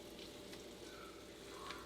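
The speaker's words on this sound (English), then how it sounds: "You can turn it down a little bit if you need to, but you still kind of want it to bubble and sizzle and do a thing." Butter sizzling and browning in a hot pan on a home stovetop, a steady dense crackle and hiss close by with faint bubbling.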